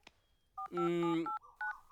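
Telephone keypad dialing tones, a short series of clear electronic beeps with one longer held tone in the middle, fairly quiet and close, in a comedy film scene.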